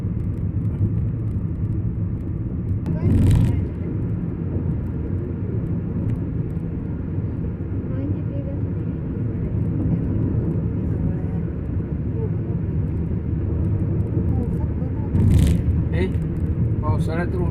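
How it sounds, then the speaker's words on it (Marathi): A car driving along a road through a wind turbine area, its engine a steady low hum beneath ongoing conversation, with two brief louder swells partway through. "आता आर्यन गाडी चालवा लागलाय."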